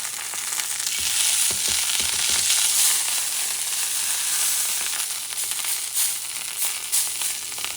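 Top round steak sears hard in a hot pan while its edges are pressed to the heat, giving a loud, steady sizzle with scattered pops and crackles throughout and no talk.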